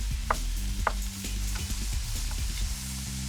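Yellow squash and onions frying in a pan give a steady close sizzle, with a few soft knocks and stirring scrapes scattered through it.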